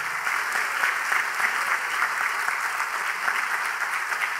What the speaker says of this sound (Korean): 박수로 성원해 주세요